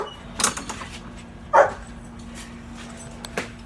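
Guard dogs give a few short, scattered barks and yips at moderate distance, separated by quiet pauses.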